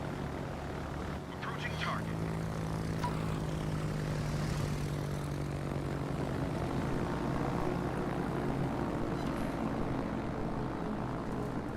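Aircraft engines in the World of Warships naval battle game: a steady propeller drone with constant background game noise, with faint voices underneath, as attacking planes are shot down.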